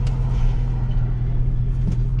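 A 2007 Chevrolet Silverado with a 4.8 V8, freshly tuned with bolt-ons, drives along with a steady low engine drone and road rumble heard from inside the cab, loud and unbroken.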